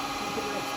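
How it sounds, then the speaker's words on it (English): A dust extractor running in a woodturning workshop, a steady faint whirring drone with a constant hum and no breaks. "The dust extractor."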